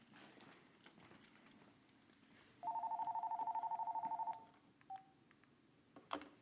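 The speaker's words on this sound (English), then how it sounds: "My phone's ringing." A phone rings once as a single bright electronic trill, lasting under two seconds and then cut short, with faint room noise and small knocks around it.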